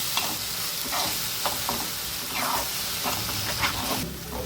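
Tomato puree from about four small tomatoes being stirred and fried in a pan for chicken gravy: steady close sizzle with repeated scraping strokes of the spoon at an uneven rhythm.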